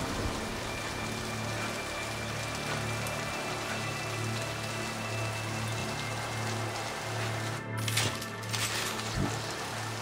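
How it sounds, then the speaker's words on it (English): Steady heavy rain falls in the video game Mass Effect 2, a dense continuous hiss of drops on surfaces with a brief dip near the end and no talking. "It is raining really badly."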